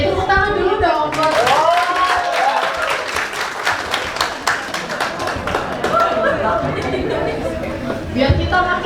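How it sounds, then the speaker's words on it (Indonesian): A classroom audience at a high school maths teaching session breaks into lively applause. The dense clapping runs for several seconds while voices cheer and chatter over it. "Oke, tepuk tangan dulu dong buat."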